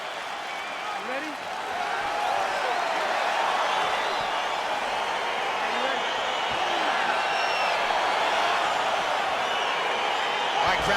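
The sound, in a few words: UFC fight crowd getting excited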